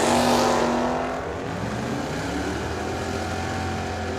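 Doug Fleetwood's 1969 Chevrolet Camaro drag races down the track at Firebird Motorsports Park, a loud engine roar pulling away and fading into a sustained distant drone.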